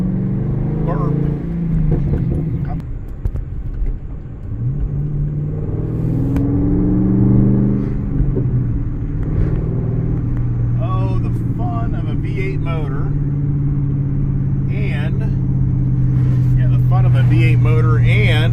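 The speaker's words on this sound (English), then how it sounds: "What more fun can you have besides a loud exhaust, right?" A stick-shift Camaro with a loud exhaust rumbles steadily at close range, its deep engine drone swelling as it revs and pulls along. People talk over the engine throughout.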